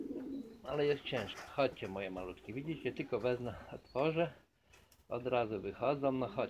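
Pigeons of fancy colour varieties coo in a loft while someone talks to them closely and almost continuously, the birds' soft calls sitting under and between his speech.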